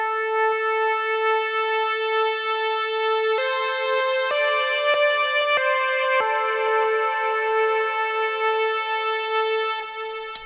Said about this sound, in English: This is the espresso lead, but to me, this very much sounds like a trumpet, like a shitty Rompler trumpet.